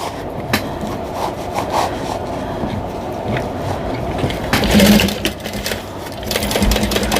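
A sewing machine runs steadily, stitching around the gusset of a bowler bag at a longer stitch length, with a continuous close whirr, some rubbing and handling of fabric, and a brief louder burst near the end.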